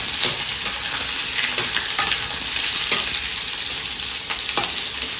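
Large chopped onions frying in oil in a pan for duck curry, a continuous close sizzle broken by repeated scraping stirs of a spoon every second or so.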